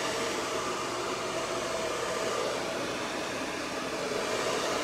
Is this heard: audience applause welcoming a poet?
no